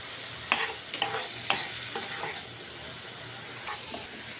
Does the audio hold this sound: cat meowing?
no